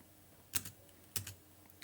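Two sharp, close key presses on a computer keyboard during a Scratch program test, each a quick clicky double tap about half a second apart in a quiet room.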